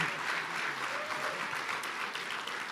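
An audience applauds at a Rhode Island Hockey Hall of Fame induction event, a sustained, even wash of many hands clapping that stays steady and moderately loud from start to finish, with no voice over it.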